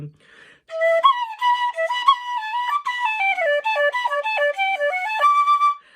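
A bright, high fife plays a lively melody of quick stepping notes, clear and alone, with no voices.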